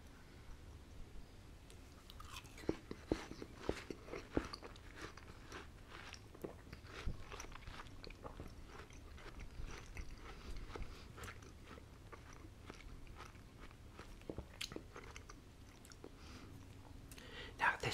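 Close-up chewing and biting on homemade shish kabob, with wet crunches, clicks and mouth sounds in an irregular rhythm, soft and intimate, with faint whispering in places.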